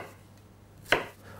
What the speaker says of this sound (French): Je vais ensuite couper dans la longueur et faire des cubes.